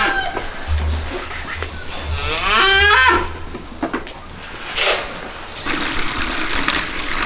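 Ten young goats call out in short, rising bleats around feeding time, several overlapping cries in the middle, with water and feed-handling noises close by.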